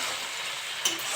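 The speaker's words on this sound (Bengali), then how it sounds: "ভালো করে নেড়ে চেড়ে ভেজে নেবো।" Taro stolons stir-frying with prawns in a pan give a steady soft sizzle, with a brief scrape or stir near the end, no voices.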